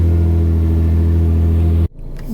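A Nissan GTR fitted with a Visconti Stage 1 fuel basket runs with a loud, steady low engine drone that cuts off abruptly near the end, leaving a quieter rumble.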